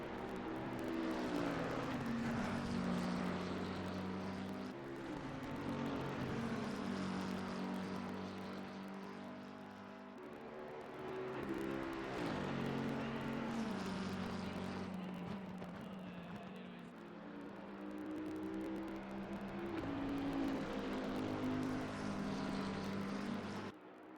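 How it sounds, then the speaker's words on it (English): Race car engines in Assetto Corsa Competizione, an endurance race at Monza. Loud, continuous engine whine climbs and drops in repeated cycles as the cars accelerate and shift, with layered tones from several cars. "27 laps deep with Frosty Harmony and Namaste Maru as we come down to the 1 hour 5 minute mark in today's endurance race at Monza"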